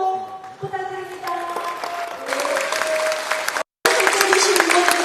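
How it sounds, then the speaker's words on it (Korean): Big round of applause from a political lecture audience in Korea, dense clapping filling the room throughout with a voice over it and a brief cut near the end. "다시 한번 큰 박수로 부탁드립니다."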